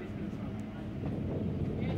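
An EMU commuter train crosses the Chennai Central–Arakkonam section tracks on the Vysarpadi Jeeva bypass near Chennai, giving a steady low rumble of wheels on rail that swells slightly toward the end.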